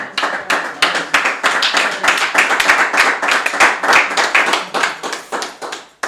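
Audience at a live-streamed debate event claps loudly and steadily for several seconds, many hands together in a dense rhythm that thins slightly toward the end.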